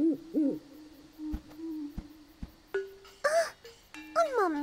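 A cartoon owl hoots in Chuggington, giving several wavering, sliding calls mixed with other playful cartoon tones and effects. No one speaks.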